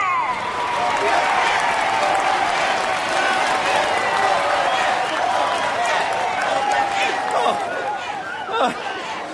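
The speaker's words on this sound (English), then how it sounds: "Let's have a huge round of applause for Captain Obler" Crowd applause and cheering at a marathon finish line, dense and sustained throughout with chatter and voices mixed in, loud and close.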